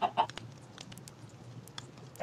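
Chickens in the Minecraft video game cluck in short, sharp bursts at the start and end, with faint scattered clicks and ambient game noise between them and no talking.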